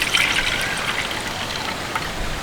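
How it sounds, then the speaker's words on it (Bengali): Water drained from soaked mung dal pours into a bowl, a continuous light trickling splash that holds steady at moderate volume for the whole stretch, with no talking. "জলটা একটা পাত্রে ঢেলে নিচ্ছি"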